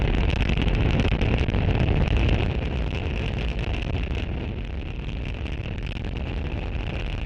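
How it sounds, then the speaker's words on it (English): A SpaceX Falcon 9 rocket lifts off from Space Launch Complex 40 at Cape Canaveral, Florida, producing a continuous loud broadband roar and rumble that eases slightly partway through. "Falcon 9 has successfully lifted off from Space Launch Complex 40 from Cape Canaveral, Florida"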